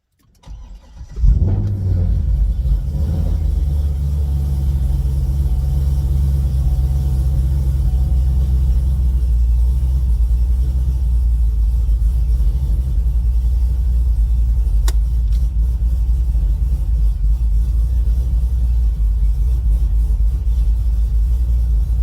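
A car engine cranks and fires up about a second in, then settles into a steady, loud low rumble that runs unbroken to the end, with no voices over it.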